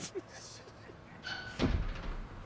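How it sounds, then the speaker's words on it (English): A door in a back alley swings open and later thumps shut in a film noir radio drama, with a faint creak and a heavier bang near the end over low background murmur. "one of the doors in the alley opened, and 2 busboys spilled out for a smoke break"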